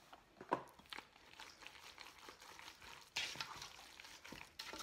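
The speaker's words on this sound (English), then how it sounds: "I try to mix up in between all the dry ingredients to make sure there's enough moisture" Dry birdie bread ingredients for a parrot being mixed and stirred in a bowl, giving soft scraping and crinkly rustles with a louder burst of stirring partway through, fairly quiet overall and without talk.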